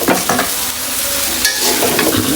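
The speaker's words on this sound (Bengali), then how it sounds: "এখন আমি নুডলসটা পুরোটাই দিয়ে দিব।" Noodles for chow mein are tossed into a hot pan, giving a steady sizzle with scraping stir strokes and brief clatter, close and fairly loud, without talk.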